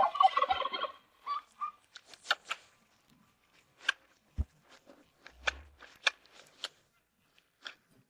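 A goose on a farm gives a scattered run of short honks and squawks, close and moderately loud, with quiet gaps between them and no voices.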